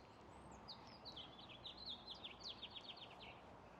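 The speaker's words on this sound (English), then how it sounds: "What kind of bird is that?" Small bird chirping outdoors near a parking garage, a run of quick high tweets repeating over steady background noise, fairly faint and with no talking.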